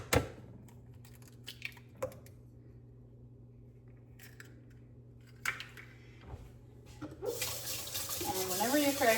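Hands washed under a running kitchen tap after cracking eggs: a steady close stream of water with scattered clicks and knocks, swelling louder at the end.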